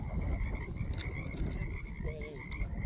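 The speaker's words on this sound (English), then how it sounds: "those are tree frogs in the background" Tree frogs croak steadily in the background at Soap Lake Ranch, a dense chorus of rough calls over constant outdoor noise, with a brief higher trill near the end.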